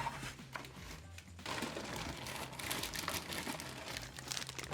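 Plastic bags crinkle and rustle steadily at close range while a robot vacuum and its accessories are unpacked from the box, the crackling continuing without a break.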